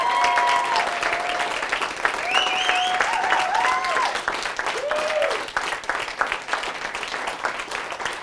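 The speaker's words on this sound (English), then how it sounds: "So can we give Bombardier Riley and his colleagues a massive round of applause?" Wedding guests at a best man speech breaking into a massive round of applause, sustained dense clapping with cheering and whistles over it, voices calling out throughout.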